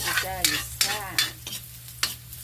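Onion and garlic sautéing in a pan, a soft sizzle under a series of rhythmic spatula scrapes and squeaks, close and fairly quiet.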